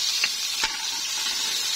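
Kang kong and pork stir-fried in a pan give off a steady close sizzle, with two brief scraping stirs cutting through early on.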